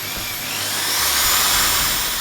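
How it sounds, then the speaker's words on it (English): A drill bores holes into a steel floor with a continuous high whine that rises slightly in pitch and loudness as it cuts, close and alone. "Rocky's busy drilling the holes for the welding to put the floor in place."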